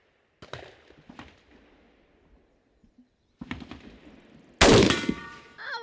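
Gunshots from a Beretta ARX100 rifle, heard as a few sharp cracks with short echoing tails. A final much louder blast is followed by a ringing decay.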